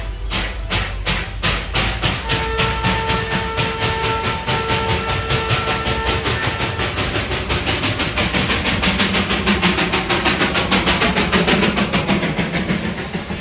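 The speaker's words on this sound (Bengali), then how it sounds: "দূর থেকে শোনা গেল কু ঝিকঝিক করতে করতে আসা" The Darjeeling toy train chugs along near Ghum station with a fast, regular rhythmic chuffing and clatter, while a sustained horn sounds for a few seconds early on; loud and close throughout.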